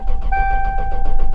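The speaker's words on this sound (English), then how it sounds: "now all that's left to do is to start the car" A 1998 Toyota 4Runner engine cranks with a rapid rhythmic chug under a steady whine, then catches and runs, loud and close, with no voices.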